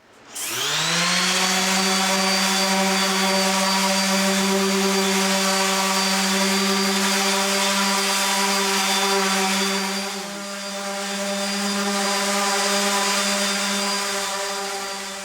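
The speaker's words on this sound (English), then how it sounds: "fire up the sander, get these smoothed out" A power sander sanding a ceiling spins up and drones loudly and steadily for a long stretch, dipping briefly in pitch before running on.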